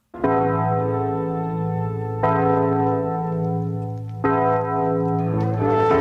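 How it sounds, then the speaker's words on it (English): A deep clock chime from a Halloween special rings out midnight, three resonant bell-like strikes about two seconds apart, each decaying slowly with rich sustained overtones, clear and alone. "As the clock chimes to midnight"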